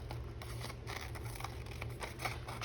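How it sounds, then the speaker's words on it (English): Big scissors cutting paper for a paper bag journal, a series of close, quick snipping and crisp rustling strokes at a steady pace. "Let me use my bigger scissors."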